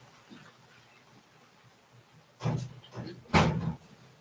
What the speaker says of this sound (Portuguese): Eu vou fechar a porta, que a chuva está muito forte.